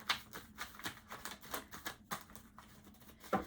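Tarot cards being shuffled by hand, a run of quick papery riffles and soft flicks in an uneven rhythm, close and fairly quiet, with no voices.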